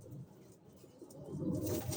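Silver high-flying pigeons, a male and female pair, coo softly. The low, faint murmuring swells slightly toward the end, with no one speaking.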